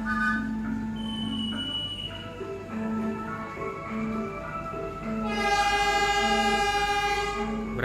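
At a station's track 2, the departing KA Fajar Utama Solo passenger train sounds its horn: a loud, sustained, multi-tone blast fills the final seconds after a stretch of quieter, steady tonal notes and low rumble.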